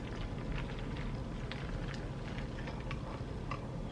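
A spoon stirs a homemade Starbucks-style pink drink with strawberries, giving quiet, rapid clinking ticks against the glass over a soft background hiss.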